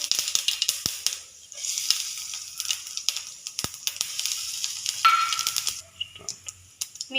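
Cumin seeds crackle and sizzle in hot oil with mustard seeds, a light steady fizz peppered with sharp little pops and spits, close and fairly quiet.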